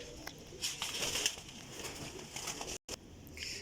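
Sialkoti Teddy pigeons with white eyes and short black tails cooing softly in a loft, low calls running under steady hissy background noise, with one brief dropout near the end.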